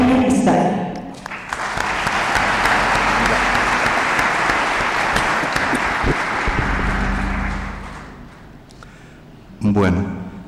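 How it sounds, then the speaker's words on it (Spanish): Loud, sustained applause fills a seminar hall for a speaker on the world economy, a dense crowd clapping for about eight seconds before tapering off, with a voice briefly heard near the start and end. "Recibamos con un fuerte aplauso al siguiente expositor chileno"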